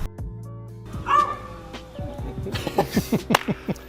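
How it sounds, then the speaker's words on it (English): A dog barks in a rapid series of sharp, close yaps that start with a whine and build into repeated barking. "what's up with dogs barking in videos?"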